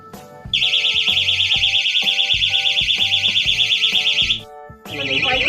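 A fishing rod bite alarm with a light sends out a loud, rapid electronic beeping trill, held for about four seconds before stopping, then starting again briefly, with faint clicks and handling noise underneath.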